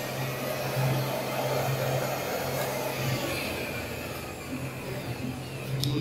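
A cloth cutting machine runs in a garment factory in Pakistan, producing a steady loud motor whine with a low hum that drifts slightly in pitch, in a busy workshop.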